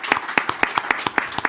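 Audience applause at a civic event in Orléans, heard as a close, distinct run of individual claps in a quick, fairly even rhythm over a short stretch.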